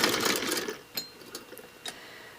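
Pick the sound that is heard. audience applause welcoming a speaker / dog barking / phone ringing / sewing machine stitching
sewing machine stitching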